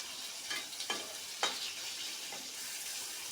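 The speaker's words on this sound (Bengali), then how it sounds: "আলুটা ভাজা হোক" Cut potato pieces frying in a pan for a pomfret dish, giving a steady hiss of sizzling oil broken by a few sharp crackles and stirring scrapes; no one talks.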